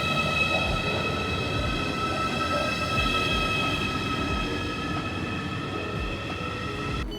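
Inside a moving German regional train carriage near Potsdam, a steady rumble carries regular wheel clacks on the rails and a constant electric whine, fairly loud and uninterrupted.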